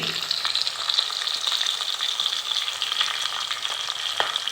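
Onions and fenugreek seeds frying in hot oil for a fish curry, a steady close hiss and crackle with small pops, continuous throughout and with no talking.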